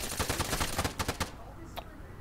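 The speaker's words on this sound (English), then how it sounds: "Why'd you shoot me? He shot you!" A rapid burst of video game gunfire rattles off about a dozen close, loud shots in quick succession, then cuts off, leaving a faint single click and a murmur of game sound.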